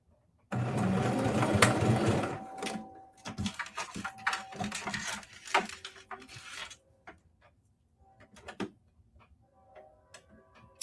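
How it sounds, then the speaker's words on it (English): Home sewing machine fitted with a buttonhole presser foot stitching at close range. Loud rapid mechanical ticking comes first, then shorter bursts of stitching with pauses and quieter clicks. "start stitching using the presser foot."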